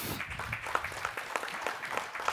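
Applause for a startup team at a demo pitch stage event, a short burst of moderately quiet clapping from an audience with distinct individual claps.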